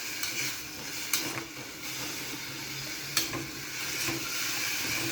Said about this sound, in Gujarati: ગેસ મીડિયમ રાખીશું ટોમેટો અને ઓનિયન એકદમ સરસ રીતે સંતળાઈ જાય છે